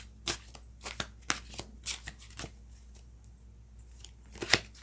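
Cards from a When Women Had Wings deck riffle and slap in a string of crisp bursts, some quick and doubled, with short pauses between and a sharper snap near the end; no one speaks.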